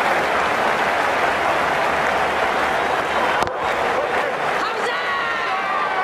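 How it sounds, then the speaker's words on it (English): A cricket crowd in the Ashes Cricket 17 video game roars and applauds in a continuous loud wash, with a sharp knock partway through and babble beneath. "The crowd is absolutely loving this as the bowler comes in again."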